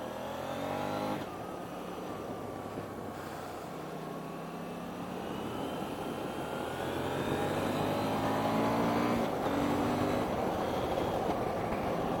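KTM 790 Duke middleweight motorcycle on a ride, engine note rising and falling through gear changes with auto-blipper downshifts, a steady loud drone over wind noise with no talking.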